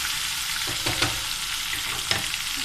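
Browned onions for moong dal fry in a pan with a constant close sizzle. A few scraping stirs break through the hiss.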